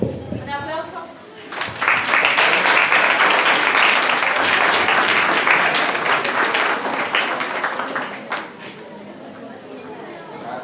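An audience bursts into applause at a national math competition event, a dense round of clapping that rises abruptly, holds for several seconds, then dies away, with a voice speaking before and after.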